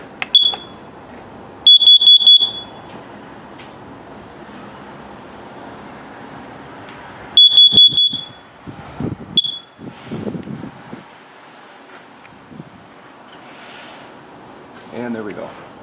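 A home safety detector is tested and sends out loud, piercing, high-pitched alarm beeps in short bursts near the start and again partway through, with a person talking quietly in between.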